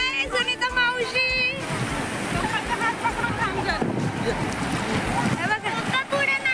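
Sea waves washing in at Diveagar beach, a steady rushing surf with wind noise, heard under several people talking and calling out nearby.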